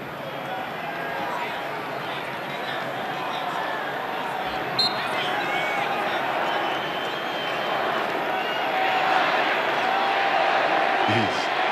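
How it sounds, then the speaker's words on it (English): A BYU football stadium crowd swells into a steady, loud roar of cheering during a game against Arizona State, building slightly over time with a commentator talking over it. "This BYU crowd is getting loud."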